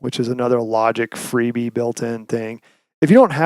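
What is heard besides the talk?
No distinct noise like a dog, phone or traffic.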